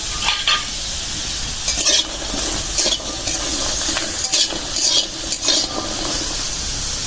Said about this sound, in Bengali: পেঁয়াজ মরিচ রসুন দিয়ে নিছি এখন ভেজে নেব হালকা ভাজা